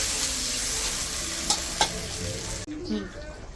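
Water poured into hot oil for a Bengali fish curry brings a loud, close sizzle and bubbling that cuts off abruptly near the end, leaving a short quieter bubbling tail.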